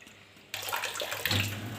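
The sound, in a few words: water sprayed on kitchen walls while cleaning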